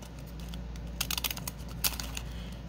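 Pinking shears snip straight across a plastic grocery bag, a quick cluster of crisp crinkly cuts over a low steady hum, close and fairly faint.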